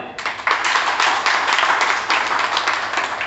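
An audience claps loudly during a real-estate guidance talk about a city housing project, with dense, continuous clapping starting abruptly and holding steady before tapering slightly at the end.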